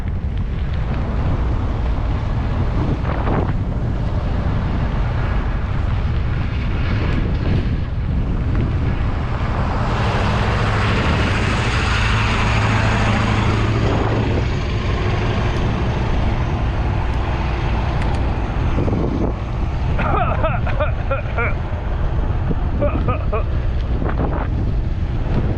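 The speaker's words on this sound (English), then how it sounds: "we got a headwind now" Steady wind rushing and buffeting over the microphone while riding a bicycle into a headwind on a road from Gainesville to Callisburg, Texas, loud and continuous throughout, with passing traffic rumble midway.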